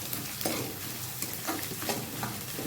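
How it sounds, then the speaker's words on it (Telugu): Garlic sizzles steadily in hot oil for a bitter gourd pickle, with spatula stirring scrapes breaking through the close, continuous frying hiss at a few points. "ఫ్రై చేసుకోవాలి మంచిగా వెల్లుల్లి ఫ్లేవర్ సూపర్ ఉంటుంది కదా"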